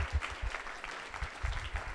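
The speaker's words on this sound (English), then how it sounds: "So if we can give everyone here a round of applause." A small audience at a food and farming program event in Watsonville claps for the panelists, fairly faint and a little distant, with uneven bursts across a couple of seconds.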